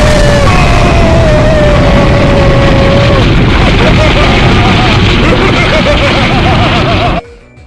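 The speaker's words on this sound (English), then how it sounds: "He can't hit me with anything he has, so he just goes straight up for the explosion." Lunatone's Explosion move in the Pokemon X&Y video game during an online battle, a loud sustained booming blast with crackling bursts and synthesized tones that cuts off sharply near the end.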